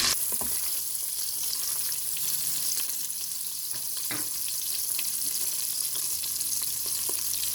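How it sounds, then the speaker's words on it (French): Chicken drumsticks fry in melted butter inside a Cookeo multicooker, giving a steady, loud sizzle throughout with a few light clicks of stirring or shifting pieces; nobody speaks. "Quand ma matière grasse est fondue, je vais mettre mes pilons de poulet"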